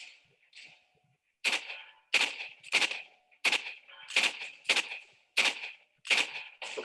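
A string of about eight sharp, cracking gunshots fired at an uneven pace during a shooting test, each with a brief ringing tail. They sound moderately distant, with no talking.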